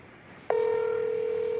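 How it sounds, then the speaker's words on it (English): A steady electronic telephone tone starts abruptly after half a second and holds on alone, loud and unbroken, with a faint quiet room before it. "It's ringing."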